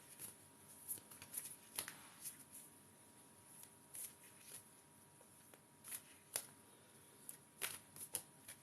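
Playing cards being shuffled by hand for a reading, producing quiet, repeated riffling bursts and soft snaps spread irregularly over several seconds, close and faint with no talking.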